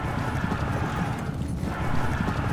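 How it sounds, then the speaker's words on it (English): Heavy cavalry horses galloping in the battle game Pike and Shot, a dense, loud, continuous rumble of many hooves with no clear gaps and a dense mass of battlefield noise over it. "our heavy horse is running off the field, probably never to return"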